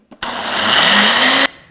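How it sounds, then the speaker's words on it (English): A blender runs for just over a second, whirring loud and close as it blends avocado lime ranch dressing with Greek yogurt and milk, its pitch rising slightly before it cuts off abruptly. "put it on the blender base and blend until smooth"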